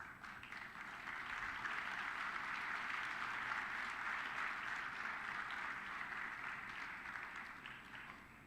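An audience at a military literature festival in Chandigarh applauds in a sustained, even wash of clapping that swells after a second and holds steady, heard from a distance at low level.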